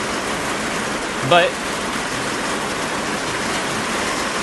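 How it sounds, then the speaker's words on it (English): Loud, steady rain pours down, a dense unbroken hiss that fills the scene, with a brief spoken word over it. "the rain is pretty loud"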